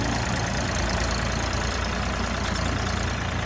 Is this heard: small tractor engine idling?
yes